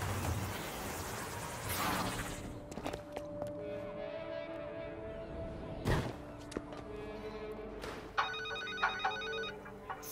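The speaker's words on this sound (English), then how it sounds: "Phone ring." A telephone rings in the video game Infamous: First Light, a bright repeating electronic ring arriving late amid game sound effects, sharp impacts and thuds, with a low musical drone underneath.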